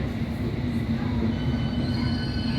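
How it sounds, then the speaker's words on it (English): A London Underground District Line train sits at a station with a steady, close, loud rumble and a thin electrical whine running throughout, no voices. "This is a District Line train to Upminster."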